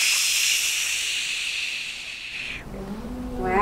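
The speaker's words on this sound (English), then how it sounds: "The Andean condor doesn't have a syrinx, so it doesn't make noises as such, but it has mechanical noises," An Andean condor expels air from its body in a steady, breathy mechanical hiss lasting about two and a half seconds, then it cuts off and a fainter, lower sound follows.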